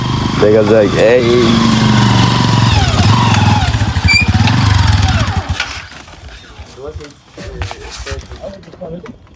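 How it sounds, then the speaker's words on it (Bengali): A motorcycle engine labours loudly up a steep, rough hill road at night in the Sukhiya Valley area, its drone steady and close for about five seconds before fading away, with someone talking over it. "এই রাতে এই ভয়ানক রাস্তা দিয়ে এই বাইক উঠে আসতেছে,"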